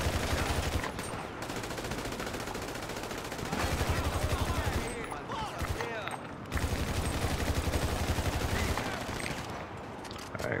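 Rapid turret gunfire in GTA 5 hammers through long sustained bursts with brief gaps, loud and dense, while a player talks excitedly over the shooting.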